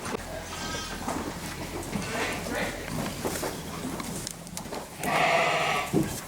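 Sheep bleating on an Icelandic farm where lambs are being fostered onto ewes, several bleats near and far over shuffling and hoof sounds, with people talking at times.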